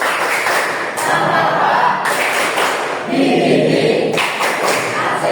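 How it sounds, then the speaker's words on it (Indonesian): An audience claps a rhythmic spirit-raising pattern at a teacher-training session, with steady, loud, crowded claps in repeating beats of roughly one second, filling the whole stretch. "Selanjutnya tepuk semangat baru."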